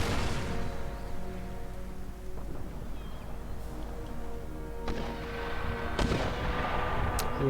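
Mortar and artillery fire booms across a battlefield in Empire Total War, scattered muffled thuds and a few sharper cracks over a low rumbling background, no voices.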